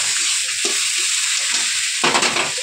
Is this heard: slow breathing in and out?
no